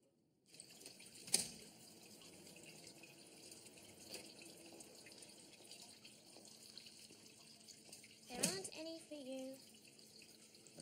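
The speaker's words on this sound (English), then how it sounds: "What's that? It's a water feature." Indoor water feature, a quiet steady trickle of running water throughout, with a couple of brief louder splashes or knocks and faint voices in the background.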